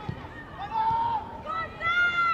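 Fans at a Women's Super League football match between Arsenal and Bristol City chant together in a sustained, sung rhythm. The chant comes from across the stadium while a commentator speaks over it.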